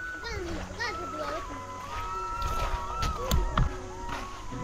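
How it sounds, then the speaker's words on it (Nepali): Boys bathe in a river, splashing the water in a few sharp bursts while their excited children's voices chatter and call out over the flowing stream nearby. "कस्तो मजाले नुहाइरहेको छ भाइहरू"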